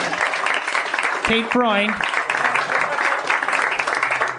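Live audience applause at a comedy podcast taping fills the whole stretch as a steady dense wash, with a brief spoken name cutting through near the start.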